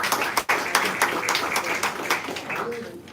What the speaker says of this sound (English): another big applause to Jean-Luc for the great job